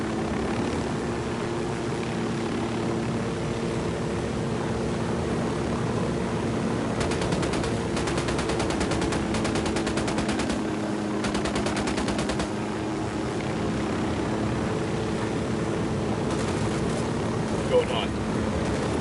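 Rapid bursts of automatic gunfire in a Ghost Recon Wildlands firefight, rattling in short clusters over a constant engine drone of aircraft or vehicles, with brief voice radio calls.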